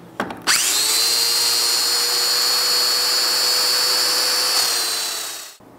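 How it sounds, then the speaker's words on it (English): A domino joiner cuts mortises into wood pieces for a chest of drawers: a steady, loud, high-pitched motor whine spins up after a brief start, holds for about five seconds, then cuts off. "I'm just gonna go ahead and get all the dominoes cut"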